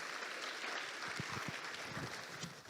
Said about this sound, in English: Can we just give the private sector a round of applause again